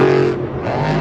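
Monster Jam truck Jurassic Attack roaring at full throttle while catching big air off a racing lane in a stadium, a loud, steady engine drone that dips slightly mid-jump before surging again.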